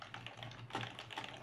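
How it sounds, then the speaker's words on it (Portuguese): Quick, soft clicking of fingers typing on a computer keyboard at close range, an uneven run of light keystrokes with no talk. "Aí estou digitando"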